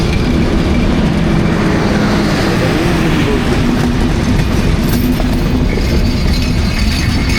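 A train rolls past close by, a loud continuous rumble with rattling wheels and rhythmic clatter of the cars that fills the whole stretch, with a faint high squeal near the end.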